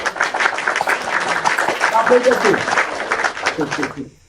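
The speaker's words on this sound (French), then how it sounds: "On applaudit Tchesco, on applaudit Tchesco." An audience applauds and claps for Tchesco, a steady burst of clapping that runs under a talking voice and cuts off abruptly at the end.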